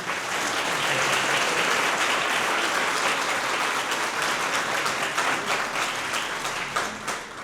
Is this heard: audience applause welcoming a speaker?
yes